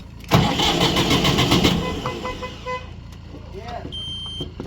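A DTZ diesel tractor cranks over and catches, a loud burst of engine noise that settles into a rough running rumble, with a person talking faintly in the background.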